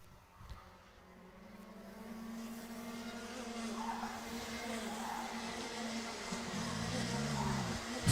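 Rotax Max racing karts at a national karting championship pre-final, their engine drone building steadily and rising in pitch as they pass through a corner, with commentary-like voice and crowd noise underneath.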